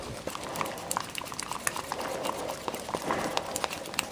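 Soft foam casting material being stirred for a foam head, with steady scraping and sloshing of thick liquid against a container, close and continuous with irregular clicks.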